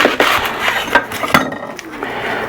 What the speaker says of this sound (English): I'm gonna cut me up some onions